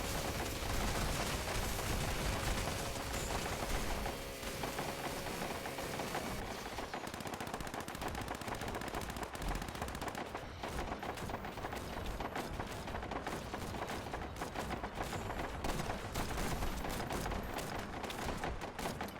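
Cryo turrets fire nonstop in Fallout 76, a dense, loud stream of rapid machine-gun-like bursts and impacts that rattles on without a break.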